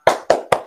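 Three sharp, evenly spaced claps from a group doing a spirit clap in a classroom workshop, close and loud in a quick rhythmic pattern, with nothing else heard.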